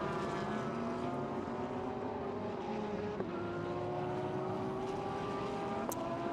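GT racing cars in the Fanatec GT World Challenge Asia race at Fuji circuit, a Mercedes and a Nissan among them, droning along the start-finish straight as a steady, sustained engine roar with shifting pitch throughout.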